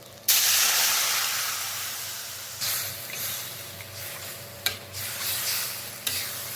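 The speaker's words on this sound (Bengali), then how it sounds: "তাই এখন আমি এর মধ্যে দিয়ে দিচ্ছি জল" Water poured onto sizzling fried spice paste for an egg and cauliflower curry sets off a loud, sudden hiss of steam that slowly fades, followed by a few spatula scrapes and knocks against the pan.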